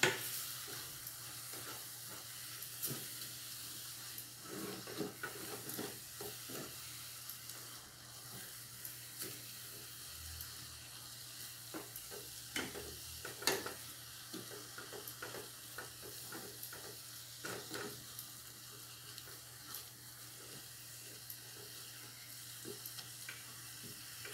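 Grated zucchini farofa sizzles steadily in a pan of olive oil while a utensil stirs and scrapes through it, with a constant frying hiss and scattered clicks of the spoon against the pan.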